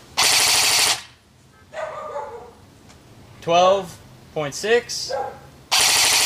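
Snow Wolf Barrett M82 M107 airsoft rifle fires two loud, rapid full-auto bursts, one at the start and one at the end, with someone speaking between them.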